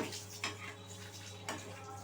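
Badshahi rui fish curry, cooked in fish oil, is stirred in a pan. Two soft scraping strokes rise over a steady low hum, faint and close.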